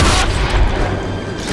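Shotgun blasts in the video game Rage, a loud booming burst at the start followed by a dense, sustained rumble of gunfire and explosions throughout.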